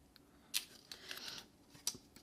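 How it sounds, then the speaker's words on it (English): Scissors snipping slots into a traced paper template, a few short crisp cuts at close range with quiet pauses between them. "Then you take your scissors and go ahead and cut those slots."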